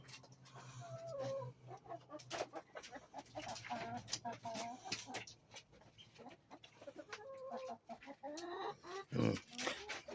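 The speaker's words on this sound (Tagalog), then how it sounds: "Guinea Fowl po ang tawag sa kanya." Guinea fowl clucking outdoors, a run of repeated clucks and calls under background voices and household noise, moderately close with a few louder bursts.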